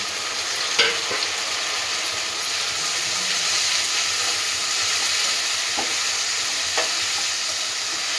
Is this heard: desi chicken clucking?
no